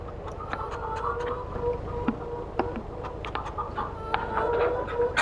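Farm chickens in Farming Simulator 22 cluck and peck in short, scattered bursts over a steady low engine rumble, with a busy mix of clicks and chatter throughout.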